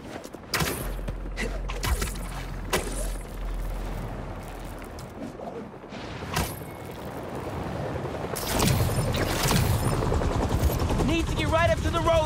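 Helicopter rotor blades in the PS5 game Spider-Man 2, a continuous low whirring roar with bursts of action noise, under a player talking throughout.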